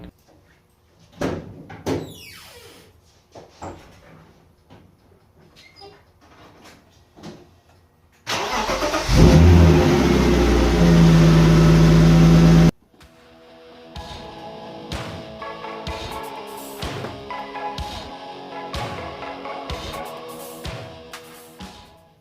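A BMW E36 325i drift car engine cranks and catches, then revs loudly for a few seconds before dropping to a steady, rumbling idle close by.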